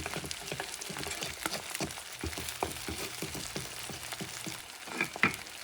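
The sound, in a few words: egg frying in a pan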